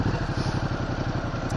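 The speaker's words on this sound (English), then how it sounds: "I'll turn the engine on so she doesn't kill herself again" A Ducati Multistrada 1200 S motorcycle engine idles loudly and close by, its rapid even pulsing chug steady throughout the short stretch.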